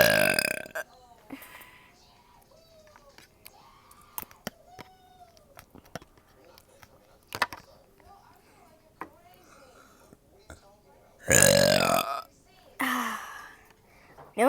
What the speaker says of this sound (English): I'm gonna be burping.